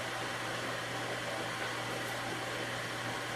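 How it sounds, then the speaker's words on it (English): A microwave oven runs while cooking scrambled eggs in a Tupperware egg maker, giving a steady, even hum and whir with a low drone and no voices. "I put it in the microwave and out came the most perfectly cooked scrambled eggs"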